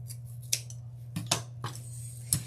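Scissors snip through decorative mesh on a patriotic stars-and-stripes wreath, four sharp close cuts spaced over a steady low hum.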